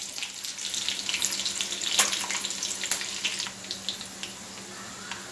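Curry leaves hit hot oil in a pan for Maharashtrian fodniche varan, making a loud, bubbly, watery sizzle with sharp spits and crackles that gradually settles.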